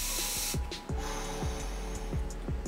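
Spritzes of OMG Energy Perk Me Up facial mist, a few short hissing sprays in quick succession against a steady background hum, close to the microphone.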